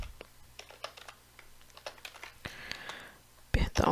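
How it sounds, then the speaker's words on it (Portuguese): Keys on a computer keyboard are pressed in a shortcut combination, giving a series of sharp, close plastic clicks and taps with a heavier burst at the end, while a voice talks quietly in the background. "Você tem que apertar o Ctrl."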